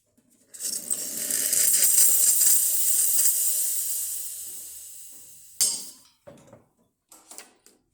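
An ECM espresso machine steam wand blasts a loud, steady hiss for several seconds that gradually tapers off, followed by a few short bursts and clinks.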